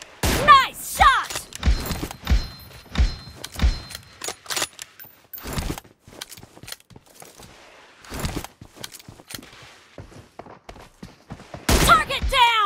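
Gunfire in the BGMI mobile battle game during a team deathmatch with M24 sniper rifles: sharp shots and bursts crack out in clusters across the span, loud and close, with short gaps between volleys and a few heavier blasts near the end.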